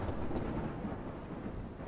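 A thunderstorm rolls through the Smalland video game world as a steady, dense rush of rain and low rumbling, loud and continuous throughout with no voices.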